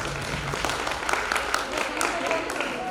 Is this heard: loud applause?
yes